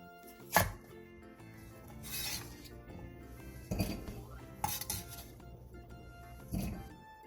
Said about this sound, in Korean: 그 다음 먹기 좋게 3cm 정도 길이로 잘라주세요.